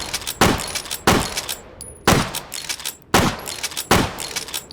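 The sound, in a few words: gun firing in video game H3VR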